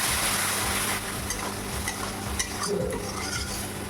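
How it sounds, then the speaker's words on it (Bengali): Masala is stirred into prawns in oil and a splash of water for chingri malaikari, with soft scraping strokes over a steady sizzle that starts loud and settles slightly quieter. "মশলাটা আমি মাছের সঙ্গে মিশিয়ে নেব।"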